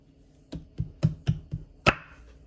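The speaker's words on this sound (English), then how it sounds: "This is how I cut my yuca" A knife chopping through yuca (cassava) on a board for snapper head soup: six crisp, close thuds at a steady, slightly uneven pace, the last one sharper, with no voices.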